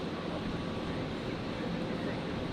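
A fixed-wing aircraft roars steadily while taking off from runway 01 right at Brisbane Airport, a constant, loud broadband engine rumble that holds level throughout with no talk.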